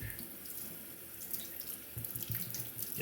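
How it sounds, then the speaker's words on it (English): Steady running tap water pours into a sink as a knife blade is rinsed during honing on Shapton Pro synthetic whetstones, a continuous close hiss with brief splashy bursts near the end. "Just gonna rinse the blade underwater."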